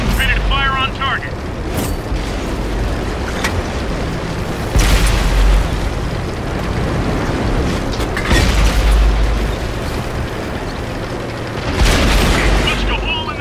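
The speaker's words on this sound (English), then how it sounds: "Ready to fire on target." A weapon fires at a target and explodes: several heavy booming blasts spaced seconds apart, each a loud low-end thump with a bright crack, over constant mechanical rumble and a speaking voice.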